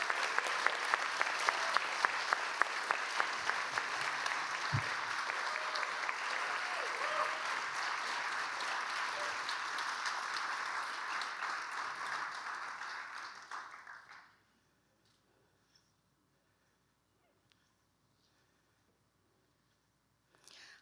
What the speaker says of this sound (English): Please, let's give a round of applause to the gifted Mr. Kris Bowers.